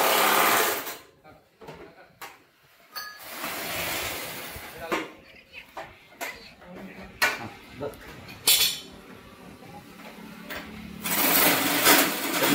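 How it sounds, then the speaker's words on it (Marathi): A power tool tightens nuts on a power tiller seat in short whirring bursts separated by pauses and metallic clinks, with people talking in between. "नट आवळायचे काम मशीनच्या साह्यानं चालू आहे."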